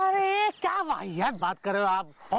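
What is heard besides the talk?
No everyday noises stand out.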